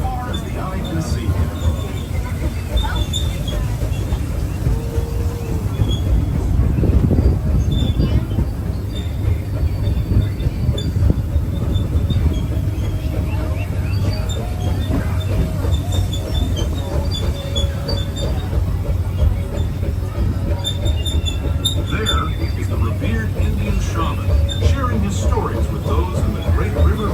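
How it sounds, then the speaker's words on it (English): The Disneyland Railroad train rolls along with a steady loud rumble, faint rhythmic wheel clacks and occasional squeals, and people talk over it. "Chugga sound of the train."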